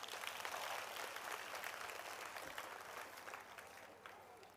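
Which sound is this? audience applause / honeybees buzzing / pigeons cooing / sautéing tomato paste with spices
audience applause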